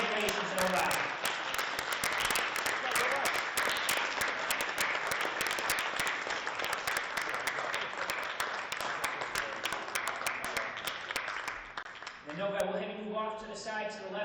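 Audience applause at a high school esports league grand finals, a dense, sustained clapping that carries on loudly for over ten seconds before fading as a voice begins speaking over the crowd.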